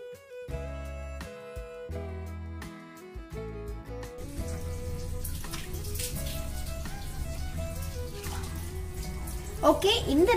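Milk squeezed from soaked semolina for rava halwa pours through a strainer, a steady close trickle and splash that starts after a few seconds of plucked melodic tones and continues under them.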